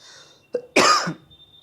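A man gives a single short, harsh cough after a brief throat noise, close and fairly loud, with a faint steady whine behind it and no speech.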